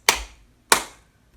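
Two sharp hand claps about half a second apart, close and crisp, each ringing out briefly in a quiet room during a children's story dance activity.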